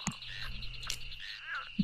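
A frog in a video game gives short croaks, one at the start and one at the end, over a thin steady tone and a faint, hissy background.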